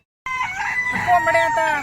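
A desi rooster crows once, loud and near, a long harmonic call that starts abruptly and carries on without any talking over it.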